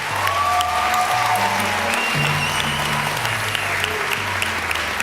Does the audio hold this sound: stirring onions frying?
no